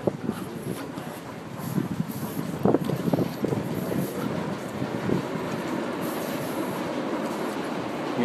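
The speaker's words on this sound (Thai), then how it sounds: "นี่เป็นรถไฟฟ้าใต้ดินนะครับของ กรุงเวียนนา" An underground metro train in Vienna rumbles loudly and steadily, with rattling clatter from the cars and a high metallic squeal from the wheels running over the rails.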